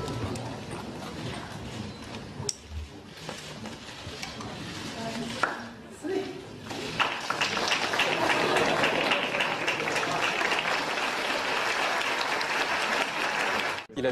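A delirious crowd in a town cheers and claps, starting as scattered applause with knocks and shuffles, then swelling into a loud, continuous roar of clapping and shouting that fills the second half.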